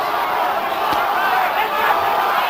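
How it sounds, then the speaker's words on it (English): A boxing arena crowd roars during the Holyfield vs Moorer rematch. The noise is a steady, dense wash of cheering from a large audience with no pauses, and one brief thud stands out near the middle. "The crowd trying to urge Holyfield on."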